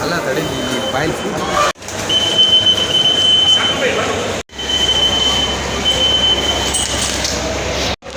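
A train rumbles through Hubli railway station with a steady roar and a thin metallic squeal from the wheels; the sound cuts out briefly twice.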